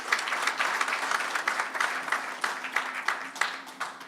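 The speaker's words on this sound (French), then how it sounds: "Applaudissements à eux aussi, s'il vous plaît." An audience at a ministerial council meeting applauds, steady dense clapping throughout at moderate level, with individual claps standing out in a rapid, uneven rhythm.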